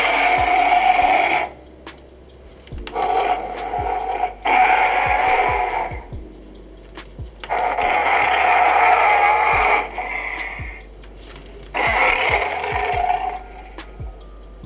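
Several loud electronic roaring bursts in sequence from Playmates Godzilla vs. Kong Battle Roar toy figures, each lasting a second or more, separated by short pauses and clicks.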